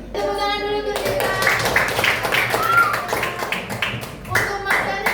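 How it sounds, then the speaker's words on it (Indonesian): A sixth-grade class claps hands together in a classroom, a dense burst of clapping with some rhythmic taps, mixed with speech and children's voices. "Tepuk tangan dulu untuk kita."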